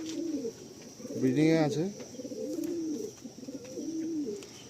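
Madrasi and Andhra pigeons coo in a loft, repeated low rolling coos near the microphone, with a short spoken phrase cutting in midway over the birds.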